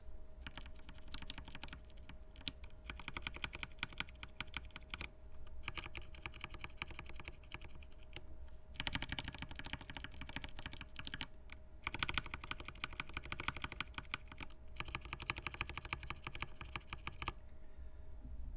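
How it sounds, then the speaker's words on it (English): Brisk typing on a mechanical keyboard with Cherry MX Brown tactile switches, a dense run of soft clacky keystrokes in uneven bursts with brief pauses between them. "I'll give you a little bit of the sound test on a Cherry MX Browns versus my RK Reds."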